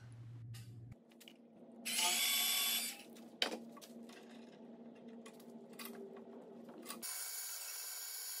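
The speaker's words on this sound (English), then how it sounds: "I'm drilling into the spot where someone else drilled into my table." A drill bores into a wooden table at an old drill spot, a short, loud, whirring burst lasting about a second. Quieter mechanical clicks and shop noise come before and after it.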